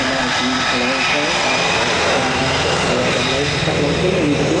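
A Beechcraft propeller airplane flies past at an air show, its engine drone loud and steady throughout, with a wavering pitch as it moves.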